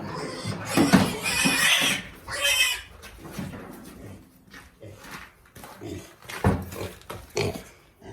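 A young male pig grunts and squeals in several loud, rough bursts, close up, with quieter snuffling between them.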